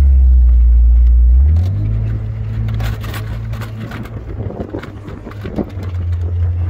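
A 4x4 driving over desert sand dunes: a loud, deep engine drone that drops in pitch and level, then churns on in rougher bursts before swelling again, with no talking.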